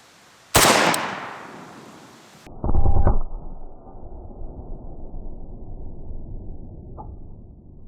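An AK rifle fires Red Army Standard hollow point rounds outdoors, a single sharp, loud crack that rings out and decays, followed moments later by a brief clatter and quiet ambient hiss.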